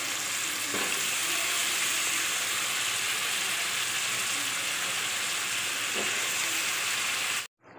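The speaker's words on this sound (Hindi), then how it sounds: "तो अभी मैं इसमें आलू शामिल कर दूँगी" Sliced potatoes fry in a spicy masala for an egg and potato curry, giving a steady, loud, even sizzle with occasional faint stirring knocks, and no talking.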